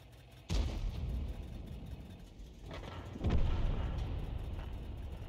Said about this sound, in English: The reason it is a low pressure 90mm gun, by the way, is simply because the hull wouldn't be able to take so much stress from the recoil.